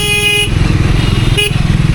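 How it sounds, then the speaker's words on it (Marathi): Dense road traffic on a night ride out of Mumbai toward Panvel, with motorcycle and car engines rumbling close by and two loud horn blasts at the start and again just before the end. "इथल्या गावात एवढी ट्रॅफिक आहे ना"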